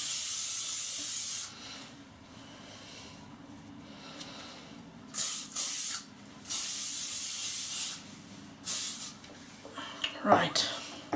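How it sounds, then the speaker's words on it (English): Hairspray hisses onto hair in several short bursts, first one long spray, then a run of quick separate puffs, close up, with some faint rustling in between. "this a little bit of hairspray"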